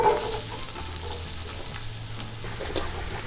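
Vegetables with onions frying in a pot while being stirred, a soft continuous sizzle with light scraping movement, fairly quiet and steady throughout.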